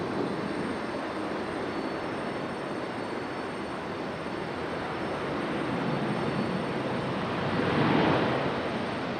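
A passenger jet departing Raleigh-Durham International on a Houston flight in stormy weather, a steady broad engine roar that swells to a peak near the end.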